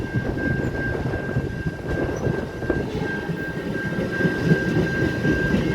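A double-decker train rumbles steadily with a constant high whine, the low roar holding even throughout as the cars pull away from Prospect Heights station in the United States.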